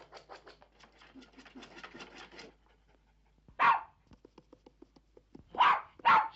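A dog barks in an indoor dramatic scene, a quick run of sharp yaps and whines at first, then after a pause two or three louder, heavier barks close by.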